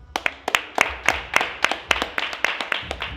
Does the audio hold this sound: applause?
yes